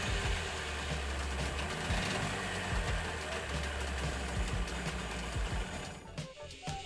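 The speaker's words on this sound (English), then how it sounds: "As you will see, I can't bring it down, it's stuck at a high." Ski-Doo/Sea-Doo Challenger 1800 engine with rave valves, stuck at high revs and refusing to drop despite throttle feathering; a loud, steady, continuous roar that holds constant before briefly dipping near the end.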